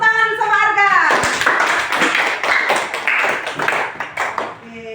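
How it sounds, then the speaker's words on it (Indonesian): Schoolchildren in an Indonesian classroom clap their hands together in a quick burst of overlapping claps that thins out toward the end, right after a teacher's voice and with more chatter mixed in. "Kasih tepuk tangan sama Arga."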